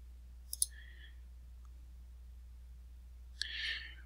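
A few quiet, isolated clicks from a computer keyboard as a single key is pressed, with a short burst of soft clicking near the end and a near-silent background.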